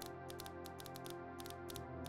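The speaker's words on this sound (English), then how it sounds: "So we can hear all the clicking" Item-moving machinery in the Stoneblock Minecraft modpack makes quick clusters of sharp mechanical clicks, repeating in an uneven rhythm over a constant low humming drone.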